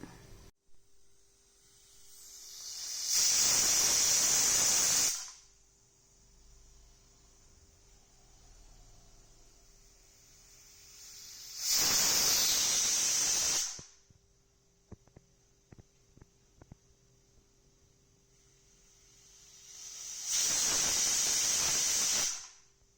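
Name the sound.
pressure cooker steam hissing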